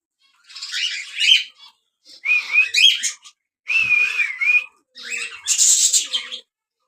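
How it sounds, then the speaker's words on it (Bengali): Pet budgerigars and cockatiels in a home aviary chirp and whistle in short bursts, several bright warbling calls spaced by brief pauses, close and loud with no voices. "এই সাইডে একজোড়া ককাটেল আছে।"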